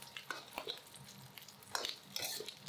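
Chinese cured pork (larou) stir-fried in a wok, quiet scraping and stirring strokes with a faint sizzle underneath, close up and without voices.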